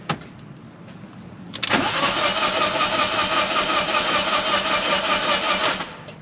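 A Fiat turbo engine is cranked to build oil pressure: a brief quiet click, then a sharp onset into a steady, loud mechanical churning from the engine bay that runs for several seconds before cutting abruptly.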